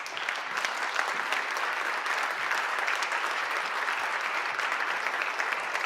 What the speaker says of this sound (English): we need a big round of applause